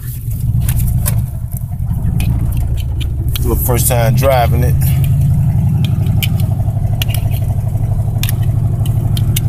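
An old Chevy engine, a 1987 Caprice with an exhaust leak, rumbles steadily at close range and is briefly revved in the middle, while someone talks over it.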